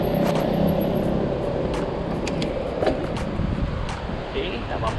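Traffic rumbles along a street in central São Paulo, with steady nearby car engines, wind buffeting and occasional clicks. A rider's voice speaks over the noise.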